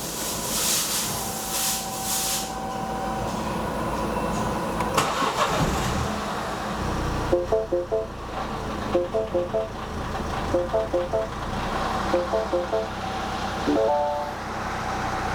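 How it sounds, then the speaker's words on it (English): A Mini Cooper engine with a bad misfire runs roughly with a rumbling, uneven idle, with repeated little clusters of ticking beeps and puffing bursts over the steady drone. "it's got a really bad misfire"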